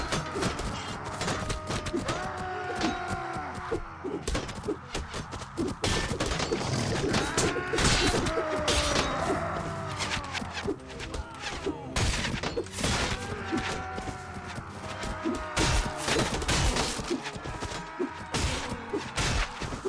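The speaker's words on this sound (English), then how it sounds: "So he's able to shoot over at me, so I should be able to shoot back at him." Gunfire in the video game Warsword during a castle shootout: dense bursts of shots, impacts and whooshes with crashes layered throughout, steady and loud for the whole stretch.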